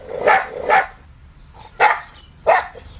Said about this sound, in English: A bark can be a fierce threat, but it's also how canids make their long-distance calls.